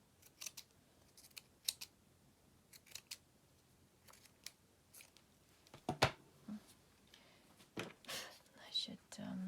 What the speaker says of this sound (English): I'm going to cut into this lace.